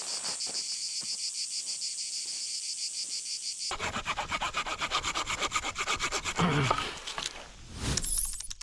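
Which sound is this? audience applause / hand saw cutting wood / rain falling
hand saw cutting wood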